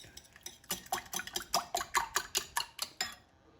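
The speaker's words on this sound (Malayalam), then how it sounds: "ഒരു എഗ് ബീറ്റർ ഉപയോഗിച്ച് നന്നായിട്ട് പതപ്പിച്ചെടുക്കാം" Eggs whisked by hand with an egg beater for an omelette pizza: about a dozen quick, evenly spaced metallic strokes against the bowl, close and clear, before the beating stops.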